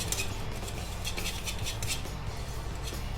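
A spoon presses lumps of icing sugar through a sieve, making a continuous soft scratchy rubbing with repeated faint metallic scrapes in a steady rhythm, close by.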